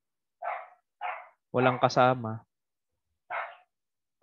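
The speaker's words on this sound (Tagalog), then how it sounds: "sorry sa aso ko na maingay." A pet dog barks indoors in short, sharp yaps spaced apart, with a person briefly speaking among the barks.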